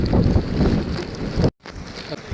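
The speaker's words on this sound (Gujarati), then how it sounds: "વરસાદ છે અને પવન બહુ જ છે." Strong gusty wind and rain at a harbour buffet the microphone with a broad rushing roar, cutting out briefly before resuming; rain hiss fills the background.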